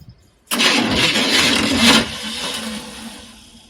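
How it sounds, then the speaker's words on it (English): A cold Squarebody pickup truck's starter spins with a loud, sudden whirring that fails to engage the engine, holding for about a second and a half before winding down and fading away. "Starter's not engaging. It's cold."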